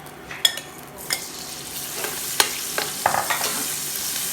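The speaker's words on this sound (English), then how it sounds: "I'm gonna put another tablespoon of oil into the pan and put my shrimp." Shrimp frying in a tablespoon of oil in a pan, a soft steady sizzle with occasional sharper crackles and spatters, close and fairly quiet with no talking.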